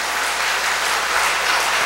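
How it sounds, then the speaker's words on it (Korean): A church congregation applauds after a hymn performance, a full, even wash of clapping from many hands that stays loud from start to finish. "이 부분에서 박수가 나와야 되는데"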